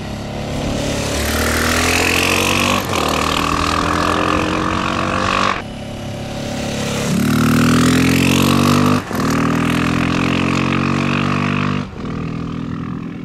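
A 2023 Honda XR650L single-cylinder motorcycle engine revs loud and close, surging up and down through several throttle blips and rev-matched shifts with brief dips between bursts, with no talk.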